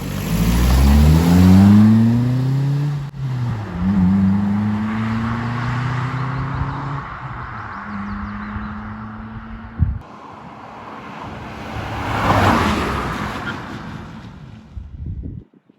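A Ford Focus ST170 engine revs hard and climbs through several gears toward 60 mph for a brake test, rising in pitch with each shift, then cuts off abruptly before a second burst of road noise.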